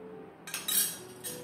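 A spoon stirring a paneer mixture in a pot: a few quick, light metallic clinks and scrapes close by, over a faint steady hum.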